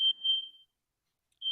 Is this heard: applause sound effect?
no